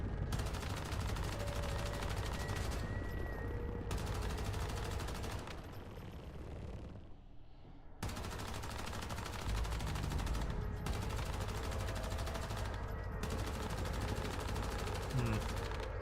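Dense automatic gunfire from a video game rattles almost continuously, loud and close, easing briefly in the middle before resuming, with talk underneath.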